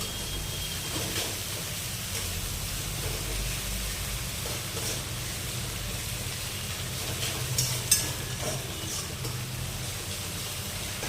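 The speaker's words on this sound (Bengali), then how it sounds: "এবার আমরা পেঁয়াজটা তেলের মধ্যে কিছুক্ষণ নাড়াচাড়া করে নরম করে ভেজে নেব।" Chopped onions fry in oil in a pan, giving a steady, close, low hiss of sizzling with occasional soft stirring scrapes and a small knock near the end.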